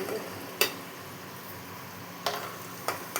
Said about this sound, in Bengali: এইভাবেই ভাজতে হবে, কিন্তু সব পাল্টে পাল্টে সুন্দর করে ভেজে নিতে হবে।